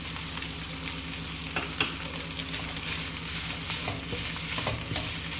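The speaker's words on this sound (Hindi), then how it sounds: "1 से 2 मिनट इनको सौते करेंगे।" Carrots and capsicum sautéing in a pan for chicken egg fried rice, with a steady close sizzle and frying hiss and occasional stirring scrapes, no voices.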